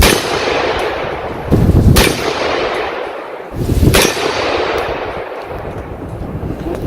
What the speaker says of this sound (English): That ping sound means I hit it.